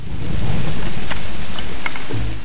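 Heavy, steady rain pours in the Tomb Raider: Definitive Edition video game, a dense loud wash of noise with low rumbling underneath and no voices.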